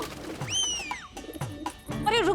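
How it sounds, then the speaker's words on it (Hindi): A pigeon calls with a few short, bending coos, fairly close and loud, separated by brief pauses and rustling. "महाराज वो देखिए कबूतर"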